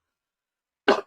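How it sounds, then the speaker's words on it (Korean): A single short cough rings out close to the microphone after a stretch of silence, sharp and brief. "이거 죄송합니다. 기침해서."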